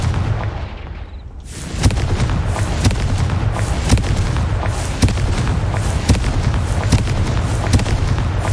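Confringo fire spell blasts in Hogwarts Legacy, a steady run of sharp explosive bursts roughly every second over dense crackling background noise, loud and close.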